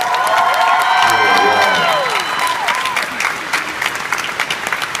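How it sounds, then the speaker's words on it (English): Audience at a Tolkien fan convention panel applauding costumed attendees, loud sustained clapping with cheers and whoops, voices calling out over it early on before the clapping tapers. "I'm giving these guys a huge round of applause."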